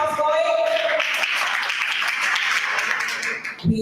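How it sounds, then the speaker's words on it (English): An audience applauding a finalist at a research day event, with sustained clapping from many hands, steady and fairly loud, under a voice at the start and a sound at the very end. "Yes, keep the applause going"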